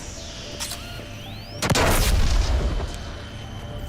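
Gunfire and an exploding mine in Mass Effect: a faint shot and a streaking whine, then a sudden heavy blast with a rumbling tail that fades over about a second.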